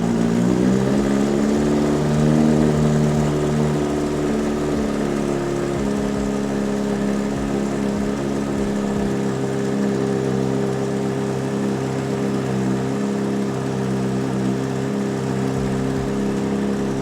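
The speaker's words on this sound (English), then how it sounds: "Start your motorcycle and let it idle." A Kawasaki Z900 motorcycle engine idles steadily and loudly nearby, a constant low throbbing drone with no revving and no talk throughout.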